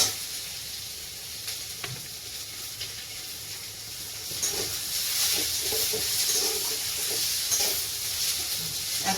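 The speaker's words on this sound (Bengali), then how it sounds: "চলো করেলা ভাজা হতে থাক" Bitter gourd (karela) fries in a pan in a home kitchen, a soft continuous sizzle that grows louder and busier partway through, with occasional stirring clinks.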